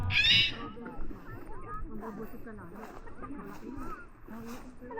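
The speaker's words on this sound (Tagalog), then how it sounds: "Pambugaw ng mga ibon. Ito pala yung tumutunog" Bird scarer device at a New Zealand blueberry farm sounds off with a short, loud shrill burst of synthetic bird or owl-like calls, followed by quieter chirps while people talk nearby.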